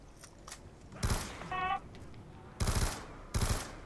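Short bursts of gunfire in a zombies video game, three or four quick rattling volleys separated by brief gaps, with a short mechanical whir between them, fairly quiet overall.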